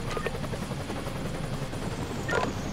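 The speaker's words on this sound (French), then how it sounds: "On va faire atterrir l'hélico." A helicopter lands in the emergency-services simulation game Emergency 2016, with a steady, moderately quiet rotor and engine wash running throughout.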